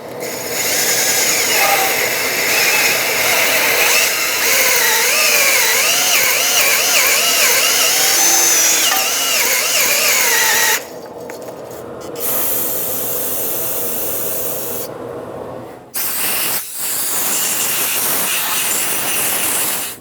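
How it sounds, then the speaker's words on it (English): A wire wheel on a power tool grinds rust out of the inside of a steering knuckle on a 2018-2023 Subaru Crosstrek, a loud, steady, hissing whine that cuts out briefly twice before running on. "I'm going to clean inside here with a wire wheel."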